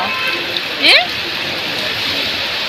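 Steady, dense hiss of heavy rain pouring continuously during a thunderstorm in Mannarkkad, Palakkad, with a brief rising whistle-like sound near the start.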